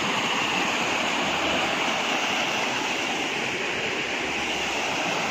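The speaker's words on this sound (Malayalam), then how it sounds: "കേട്ടോ തോട്." A small stream flows in a steady, even rush of water, moderately faint and continuous with no voices.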